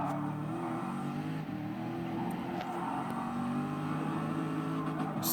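Corvette C7 GTE race car engine in Gran Turismo Sport at Interlagos, a steady loud drone held at high revs throughout with no talk.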